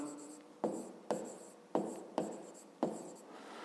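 A pen or pencil writes on paper in a math exercise, giving six crisp strokes at a steady rhythm, close and fairly quiet, with no talk over it.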